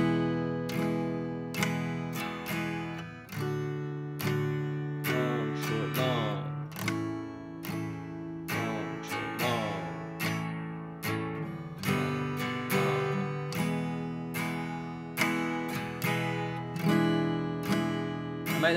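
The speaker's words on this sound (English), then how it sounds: "The swinging eighth notes when you strum sound like this." Acoustic guitar strummed in swung eighth notes through a chord progression, a steady long-short rhythm of bright, ringing chords played close and alone for the whole passage.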